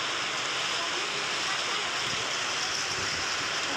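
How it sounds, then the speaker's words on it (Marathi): Heavy rain pours down in a strong wind in a village, a loud, dense, unbroken roar of water that fills the whole scene, with a little faint talk. "काय पाऊस आहे बाबा"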